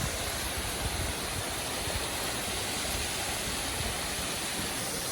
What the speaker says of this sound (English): This is the first falls, but this is not Rainbow Falls.